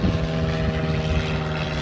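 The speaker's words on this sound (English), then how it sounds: "Literally a German biplane just flew right over us." A German biplane drones overhead at a Battle of Fredericksburg field site, its propeller engine giving a steady, fairly loud hum that holds for the whole moment without talk.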